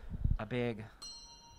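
A brass handbell rings once, a clear bright strike with a shimmering tone that fades slowly, heard after a short burst of speech.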